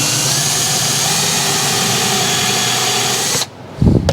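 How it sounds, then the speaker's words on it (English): Power drill boring a hole in a cherry cabinet rail, a loud steady high whine held for several seconds, then cutting off abruptly, followed by a brief clatter. "Drill your first hole."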